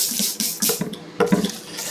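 A spray bottle spritzes water onto a paper towel laid over fresh orange and purple ink for a small watercolor craft, several short, close hissing bursts separated by brief pauses.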